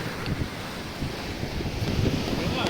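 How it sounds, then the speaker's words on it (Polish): Adriatic waves wash and break nearby on the shore at Sveti Stefan, Montenegro, with a steady roar of surf, wind buffeting the microphone throughout. "Fale nas tu prawie obmyły."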